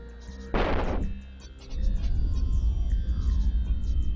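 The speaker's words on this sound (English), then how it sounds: "As soon as we come out of warp, we're going to start up the smart bombs." A Machariel battleship firing smart bombs in EVE Online, a sharp burst of noise followed by a heavy rumbling roar that swells and holds over game tones.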